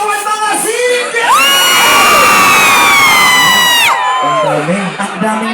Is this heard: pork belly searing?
no